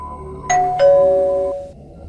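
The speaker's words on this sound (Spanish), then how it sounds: "La campana en el mostrador delantero sonó." Two bright chimes of a service bell on a motel front desk ring out close by, the second lingering and fading slowly, with quiet background otherwise.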